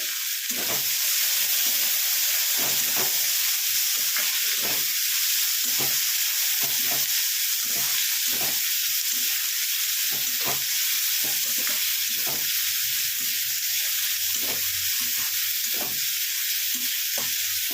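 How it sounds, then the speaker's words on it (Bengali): Onions lightly frying in a pan for a fish-head and cabbage dish, a steady close sizzle broken by repeated scraping stirs at an irregular rhythm, with no talking. "পেঁয়াজটাকে হালকা করে ভেজে নেব"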